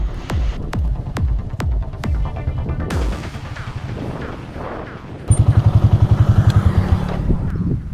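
A Yamaha YTX Classic motorcycle engine, custom-built, throbs close by with steady pulsing, then revs up and settles into a rapid, even putter while riding.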